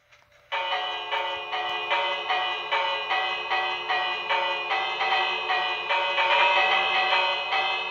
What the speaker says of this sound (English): Proof, it can even ring a bell.